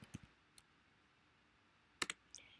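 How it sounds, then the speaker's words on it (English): A few sparse keystrokes on a computer keyboard, quiet and close, with a single click early on and a quick cluster of taps near the end. "So we type in our period, and then we type"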